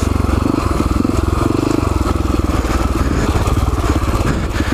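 A Husaberg FX450 dirt bike thrums with a loud, close, steady engine note while riding a technical trail, the rapid pulsing firing continuous throughout with no talk over it.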